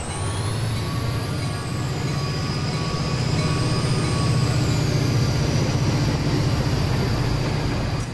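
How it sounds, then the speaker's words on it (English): A video game train in Transport Fever, an Amtrak locomotive, rumbles steadily past, with a deep continuous drone, rhythmic wheel clatter and high metallic whines rising and falling, loud and without speech. "I kind of just want to listen to this train."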